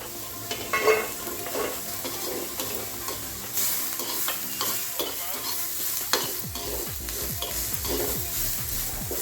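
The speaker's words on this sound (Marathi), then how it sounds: "मी आता याच्यात थोडंसं तेल टाकून घेतलं तेलाने कांदा चांगला भाजला जातो" Onion fries in oil in a pan for a Khandeshi chana dal, a steady close sizzle broken by the scrape and clink of stirring throughout, no talk.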